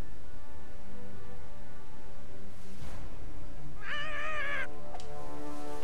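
A cat in South Park: The Fractured But Whole gives a single clear, wavering meow partway through, set against a steady tonal game soundtrack, with a soft short cry after it.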